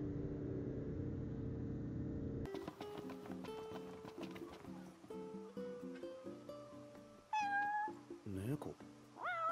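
A cat in the Final Fantasy XV video game gives a few short rising meows near the end, after a stretch of game voice and sound.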